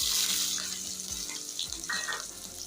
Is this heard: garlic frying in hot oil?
yes